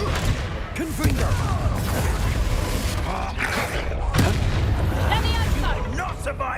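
Confringo spell explosions in the video game Hogwarts Legacy during combat, several booming blasts and crackling bursts over a busy battle din, with a player calling out spells throughout.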